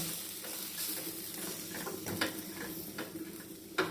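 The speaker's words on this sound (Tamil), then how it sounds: "சும்மா ஒரு ஒரு நிமிஷத்துக்கு அப்படியே லேசாக வதக்கி விடுங்க" Steady sizzling of food frying in a pan, with occasional stirring scrapes and light clinks of a utensil against the pan.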